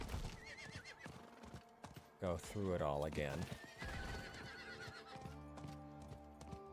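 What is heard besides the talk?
horse neighing and hooves in video game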